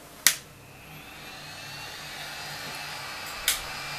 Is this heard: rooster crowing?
no